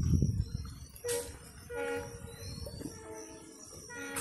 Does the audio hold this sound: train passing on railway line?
yes